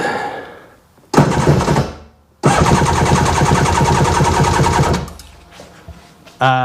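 A Seadoo GTX DI engine cranks on a weak battery, two harsh, rapid mechanical bursts of starter churning, the second lasting several seconds, with pauses between and a brief restart at the end.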